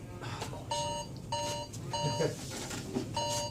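A phone alarm chimes in a repeating melodic pattern, four or five short bright tone bursts at a steady pace, moderately loud indoors with some faint background noise.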